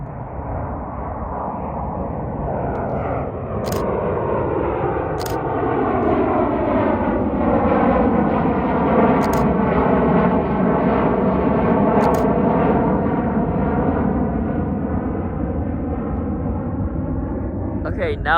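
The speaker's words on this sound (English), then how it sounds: "we got this Alaska E-175" An Alaska Airlines Embraer E-175 jet passes at Reno airport on a snowy winter day, its engines a loud, broad roar with slowly shifting tones that swell and hold throughout, punctuated by a few brief clicks.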